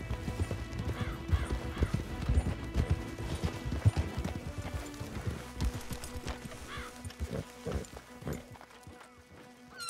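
Horses clip-clop at a run in Red Dead Redemption 2, a dense, rhythmic patter of hooves with occasional neighs, fairly close and steady, thinning out toward the end.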